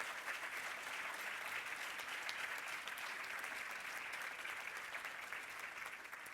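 Sustained applause from a large audience at a school performing arts event, a dense, even roar of clapping hands that holds steady for several seconds before easing slightly.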